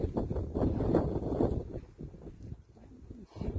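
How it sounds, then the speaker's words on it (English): Low, gusty wind rumbles and buffets the microphone outdoors throughout, with a steady muffled roar that rises and falls. "It's a very windy day out here."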